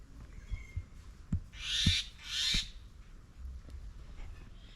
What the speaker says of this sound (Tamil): குருவி கத்துது இது என்ன குருவி சிட்டுக்குருவியா